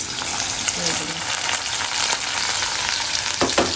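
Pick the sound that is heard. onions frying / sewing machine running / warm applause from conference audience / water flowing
onions frying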